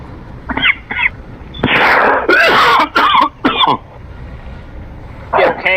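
A burst of harsh, sputtering coughs from choking on water, several in quick succession with throat-clearing, close and loud, followed by a brief pause and one more cough.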